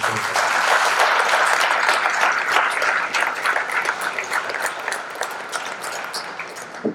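Audience applause at a high school honor ceremony, a dense, sustained wash of many hands clapping in a hall that gradually thins out over several seconds.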